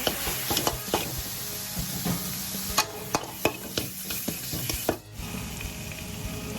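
Pieces of fried catfish tossed quickly in a hot pan with chili curry paste, a steady sizzle under repeated scraping and clacking strokes of a spatula, close and continuous, without any talk.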